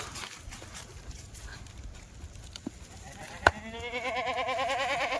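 A goat on a farm with Kathiyawadi goats gives a clear, wavering bleat near the end. Before that, quiet farmyard background and a few soft knocks.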